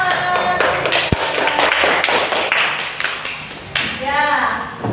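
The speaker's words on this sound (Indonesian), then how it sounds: "terima kasih, tepuk tangan." Children in a classroom break into a burst of scattered applause, brisk hand claps close by, mixed with young voices chattering throughout.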